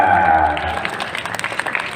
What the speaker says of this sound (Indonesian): Wah, tepuk tangan buat Sela.